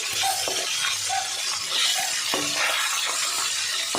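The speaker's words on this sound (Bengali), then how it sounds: "এবার মাছগুলো ছেড়ে দেবো এই তেলের মধ্যে। মাছগুলো আমি বেশি ভাজা করব না, একদম এপিট ওপিট করে ভেজে নেব।" Koi fish (climbing perch) slide into hot oil in a pan, producing a loud, continuous crackling sizzle with scattered sharper pops throughout.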